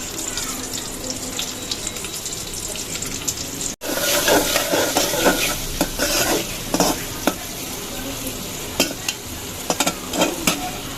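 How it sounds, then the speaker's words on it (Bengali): Onion sizzles in the oil left from frying fish while being stirred, quiet at first, then a sudden louder burst of hissing with repeated spatula scrapes and clinks against the pan. "আমরা মাছ ভাজার তেলেই এখন পেঁয়াজটা ভেজে নেব"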